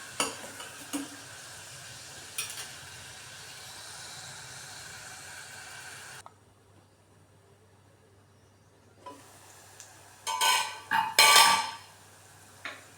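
Garlic with curry leaves cooks in a pan, a soft hissing sizzle with a few clinks of stirring, dropping nearly silent for a few seconds before louder scraping clatters return near the end.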